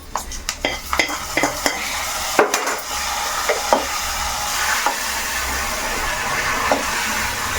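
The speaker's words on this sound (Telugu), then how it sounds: "మనకి తాలింపు వేగిపోయింది" A South Indian tempering of garlic, dried red chilies, asafoetida, curry leaves and coriander sizzles in a pan with continuous hissing frying, while a spoon clinks and scrapes against the pan in quick bursts early on.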